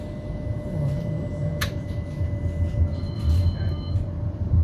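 A tram running through Birmingham toward Wolverhampton St George's, a steady low rumble of wheels and motor heard from inside, with a faint whine, a brief high squeal and a short electronic tone over the constant roar.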